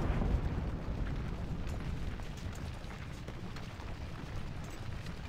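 Cannon fire in the Civil War strategy game Ultimate General: Civil War, heard as a deep rumbling boom at the start followed by a faint, continuous distant battle rumble.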